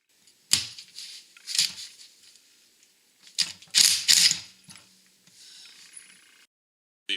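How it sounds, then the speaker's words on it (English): A specialty puller being tightened to draw a pulley off a shaft during an intercooler install on a Regal GS, heard as several short ratcheting clicks and mechanical bursts in bursts, close and alone. "now we're going to go ahead and tighten this up, and it should pull the pulley right off the shaft"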